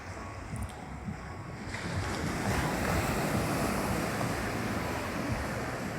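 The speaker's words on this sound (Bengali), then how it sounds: "দেখছেন কত বড় ঢেউ মারছে।" Ocean surf rolls and crashes steadily at Cox's Bazar beach, a broad continuous roar that swells louder partway through, with wind buffeting the microphone.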